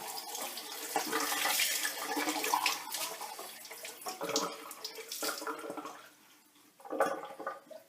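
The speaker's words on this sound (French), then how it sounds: "je vais faire avec un gant, avec de l'eau tiède, pour que ça parte mieux" Warm water runs and splashes while a washcloth rinses off a face mask and scrub, giving close, uneven gushes and wet rubbing with a brief lull near the end.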